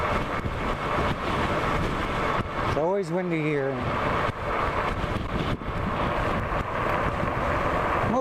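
Heavy wind buffets the microphone while riding a RadRover e-bike into a headwind in Casa Grande, a constant loud rumble and roar with a brief voiced sound partway through.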